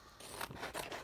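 Scissors cutting out a paper heart shape: a few quick, close snipping and rasping strokes, quiet and alone.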